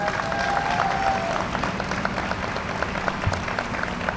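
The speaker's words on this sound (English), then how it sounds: "CDOT Commissioner Tom Carney, can you give him a round of applause?" A crowd at an outdoor ribbon cutting for the Damen Green Line station applauds steadily, with dense clapping holding at an even level throughout and no speech over it.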